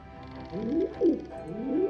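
A pigeon coos in the adventure game Anna's Quest, giving three soft, rising and falling coos close by over a faint steady background tone.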